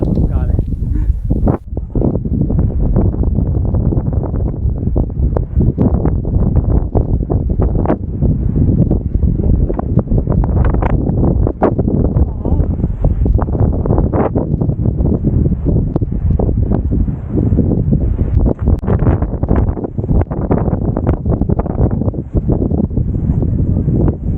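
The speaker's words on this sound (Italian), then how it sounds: "come sentite qui il vento non dà tregua" Strong, constant wind buffeting the microphone with a heavy low roar and gusty fluctuations throughout, on a motorcycle ride on Corsica's north coast.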